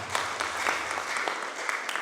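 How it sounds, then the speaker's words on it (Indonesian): Congregation clapping during a Sunday church service, a moderate wash of many hands with scattered sharper claps standing out, steady for a couple of seconds. "Tepuk tangan."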